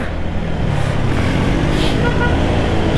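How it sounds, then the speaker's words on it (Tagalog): Heavy road traffic, a loud, continuous rumble of cars, trucks and buses idling and crawling close by, with a faint horn toot in the mix. "Sobra traffic dito guys."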